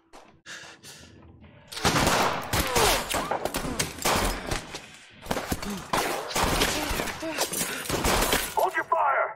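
A volley of gunfire tears through a tense scene in As Dusk Falls, with rapid loud bursts and shattering impacts in clustered waves, mixed with shouted voices.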